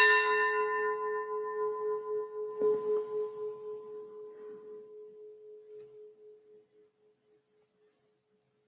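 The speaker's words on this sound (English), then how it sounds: "let us allow this bell to reverberate around us and in us." A single meditation bell is struck once and rings with a clear sustained tone that slowly fades over several seconds, with a faint soft knock partway through, then silence.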